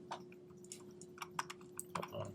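Quiet, close typing on a computer keyboard at a desk, a brief irregular run of light key clicks over a faint steady hum, with no one speaking.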